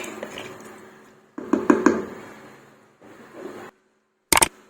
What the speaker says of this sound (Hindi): अब मैं इस पे ढक्कन लगाऊंगी।